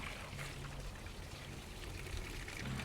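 Clear water gushes steadily from a car heater hose during a radiator flush, a continuous pouring rush with a slight gurgle near the end.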